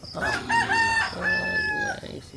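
Chickens and chicks calling nearby, with shrill, wavering high-pitched cries and clucks in a short, loud burst.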